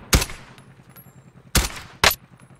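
Gunfire in the video game Call of Duty: Warzone: three sharp, loud shots, one early and two close together near the end, with quiet game ambience between them.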